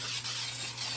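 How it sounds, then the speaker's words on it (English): Baker's Joy cooking spray hisses steadily into a 10-inch bundt pan for about a second, close up with a low background hum. "I'm going to use my favorite, which is baker's jar, to spray my pan very well"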